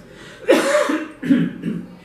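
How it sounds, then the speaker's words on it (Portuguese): Two or three close, throaty coughs in quick succession, fairly loud against a quiet room. "Eu tossi porque meu sistema nervoso central comandou"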